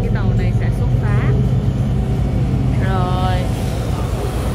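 A Cijin Island ferry's engine drones with a loud, steady low rumble close by while people talk over it throughout.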